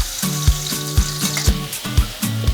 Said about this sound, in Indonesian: langsung tak tumis dulu bumbu halus